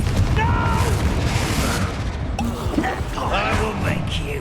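A Bombarda spell explosion in the video game Hogwarts Legacy lands as a booming blast amid continuous combat effects and rumbling, loud and close, with voices heard over the fighting.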